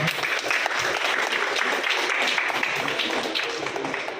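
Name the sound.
audience applause at a church seniors' day event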